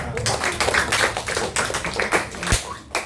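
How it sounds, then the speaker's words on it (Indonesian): Children at a Sunday school gathering clap their hands in quick, uneven bursts of sharp claps, close and fairly loud, with a voice briefly audible among them. "Oke, tepuk tangan semua."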